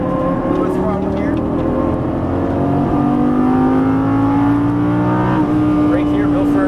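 A Lamborghini Gallardo LP550-2 engine drones loudly and steadily from inside the car, pitch climbing under hard acceleration with gear changes, while a voice talks over it throughout.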